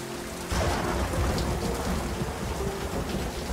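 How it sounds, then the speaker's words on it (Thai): Heavy rain pours steadily on a surface, and a deep rumble of thunder rolls beneath it, building after a moment. The sound is loud and close, with no talking. "ตาไม่ชอบเสียงฟ้าผ่า"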